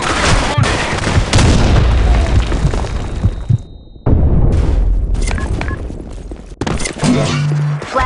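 A grenade explosion and gunfire in a multiplayer shooter video game: loud, close booms and blasts fill the stretch, with an abrupt cut midway and announcer-style game voice lines mixed in.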